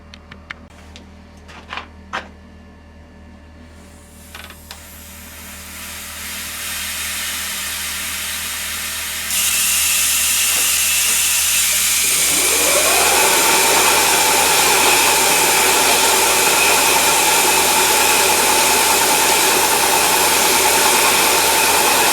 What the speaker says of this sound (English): I'm just going to get this coolant rig up, the spray nozzle, and then we'll get going.